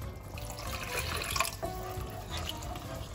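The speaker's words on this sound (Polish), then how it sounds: "Możemy też dodać troszeczkę wody." Water poured from a tap into a bitter cocoa sauce for coda alla vaccinara, a close, steady splashing trickle with small bubbling surges that runs for a few seconds with no one talking.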